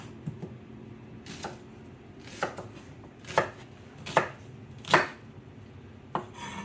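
A knife chops onion on a cutting board during preparation of a blue crab bisque: about seven separate, crisp knocks at an uneven pace, each standing alone against a quiet background.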